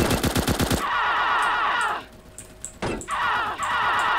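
Automatic gunfire in GTA SAMP, an online roleplay version of the Grand Theft Auto game: a rapid burst of loud shots opens, then a pause with a low hum before another sustained stretch of firing near the end.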